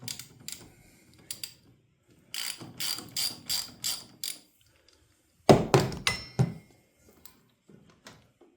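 A hand ratchet clicks while loosening the negative terminal on a car battery, close and crisp, in several short runs of rapid clicks separated by pauses.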